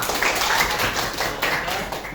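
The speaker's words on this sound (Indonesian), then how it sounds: "Nah, tepuk tangan semuanya" A class of students breaking into general applause together, a steady dense wash of clapping with no pauses, moderately loud and close.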